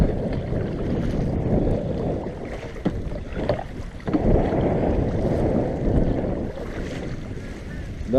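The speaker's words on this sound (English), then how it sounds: "That's really hard paddling." Kayak paddling hard across choppy harbour water, blades splashing and churning at close range amid steady wind buffeting the microphone, irregular strokes over a constant wash.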